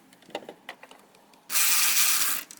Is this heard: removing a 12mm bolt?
yes